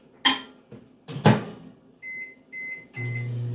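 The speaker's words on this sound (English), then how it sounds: "I got a tablespoon of butter. I'm going to melt it up in the microwave" Microwave oven melting a tablespoon of butter: a couple of door and handling clunks, a few short electronic beeps, then the steady low hum of the oven running nearby.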